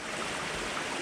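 A stream with small waterfalls along a Black Forest hiking trail, near a Kneipp wading pool, gives a steady, close, full rushing of water with no let-up and no voices.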